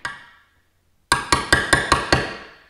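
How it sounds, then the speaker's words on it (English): A hammer strikes a socket once while seating a valve cover seal on a Toyota 4Runner 3.4L 5VZ-FE engine. After a short pause come six quick, evenly spaced metallic taps, each ringing briefly, close and clear. "then use your socket and your hammer."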